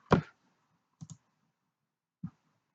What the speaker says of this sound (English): So double click there, click OK, click OK.